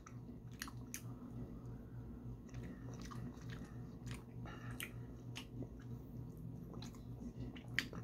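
Someone bites into and chews a slightly melted slice of taro fudge, giving soft, sticky mouth clicks and crunches in irregular bursts, close up, over a low steady background hum.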